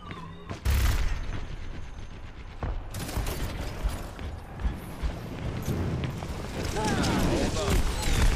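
Bursts of gunfire and explosive booms crack out in a busy, noisy Overwatch game scene, with rapid shots and mechanical clatter, partly under voices.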